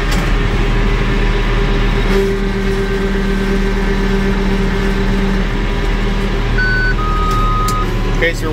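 A Vermeer baler's warning beeper signals an empty Lincoln grease gun, sounding as steady electronic tones over a constant loud tractor engine drone in an alfalfa field.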